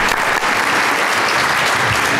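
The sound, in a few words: audience applause for a presentation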